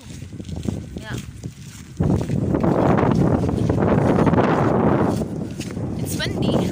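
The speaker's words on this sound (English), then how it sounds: "It's windy." Wind buffets an outdoor microphone near a harbor on a hot day after rain, a loud steady broadband roar that jumps up partway through and stays strong to the end, with people talking under it.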